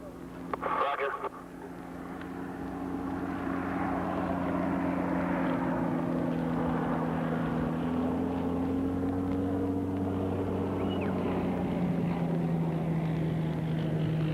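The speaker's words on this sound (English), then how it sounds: "It was good to see the airplane." A propeller airplane arriving with supplies, a steady droning engine hum that builds and holds close and loud, with a brief clatter at the start and muffled radio-style talk underneath.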